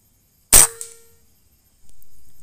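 A single sharp air rifle shot fired at about 40 meters while zeroing a scope, a loud crisp crack with a short ringing tail, followed after a pause by a quieter steady hiss.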